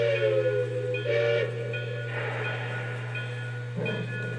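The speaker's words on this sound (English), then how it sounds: "The crew handles this huge locomotive very carefully as she moves onto the turntable." A model railroad P Company T1 steam locomotive moving slowly in the yard, with a steady low mechanical hum and soft whistle-like tones drifting over it, no talking.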